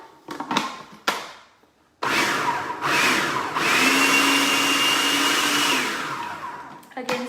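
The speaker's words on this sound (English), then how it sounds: "So we've got our garbanzo beans in here. We're going to give it another little spin." A kitchen blender spins garbanzo beans into falafel mix, starting after a few brief clatters and running loud and steady for about five seconds before cutting off, with a short knock at the end.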